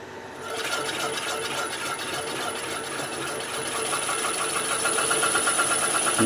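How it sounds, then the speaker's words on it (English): A three-phase electric motor runs steadily on a single-phase to three-phase VFD, giving a continuous mechanical hum with a high whine and faint rhythmic ticking, fairly close and constant throughout. "The motor is running. Look at that."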